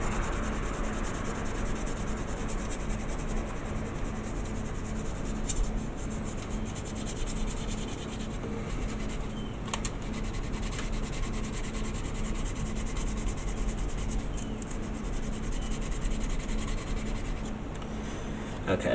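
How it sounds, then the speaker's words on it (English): Fine 2000-grit sandpaper rubs over a plastic part of a 1/600 Star Trek Enterprise model kit, giving a steady close scratchy swishing that runs without a break and without talk. "I'm just going to give it a going over with a 2000 grit."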